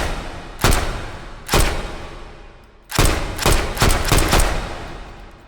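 A Sten submachine gun fires on semi-automatic in the VR game H3VR: about six loud, separate single shots, first spaced widely apart and then closer together, each with a short decaying tail.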